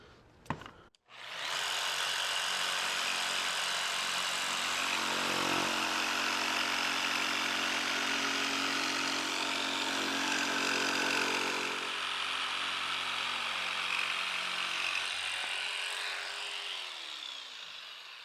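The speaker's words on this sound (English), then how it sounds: "Can try the scrolling blade next." Jigsaw fitted with a scrolling blade cutting through wood, a loud, sustained buzzing motor whine that starts abruptly after a click, holds steady, then dips slightly in pitch toward the end.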